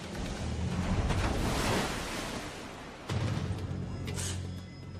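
Artificial tsunami waves in a huge 104-metre concrete wave tank holding 1,350,000 litres of water: a broad, moderately loud rushing surge that swells, drops briefly, then returns, with a low rumble underneath.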